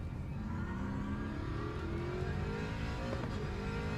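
Race car engine in the Le Mans Ultimate video game, accelerating with a steadily rising whining pitch, loud and continuous, a brief shift-like dip near the end.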